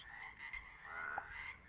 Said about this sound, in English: Those are what the frogs sound like in springish.